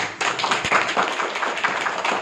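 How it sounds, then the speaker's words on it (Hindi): A class claps together on command during a spiritual lecture in Bokakhat, Assam, sounding as a quick burst of sharp, overlapping hand claps close by, fairly loud, ragged rather than one clean hit. "एक बार ताली बजाओ जोर से"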